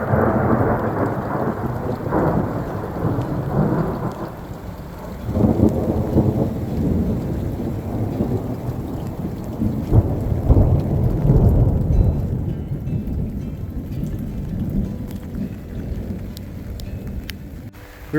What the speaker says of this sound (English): We've had some pretty good lightning and thunder.